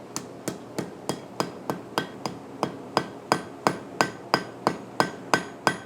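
A blacksmith's hammer strikes metal in light consolidating taps on a forge weld for a gig, about eighteen sharp ringing hits at an even, unhurried rhythm, close and clear with no talk.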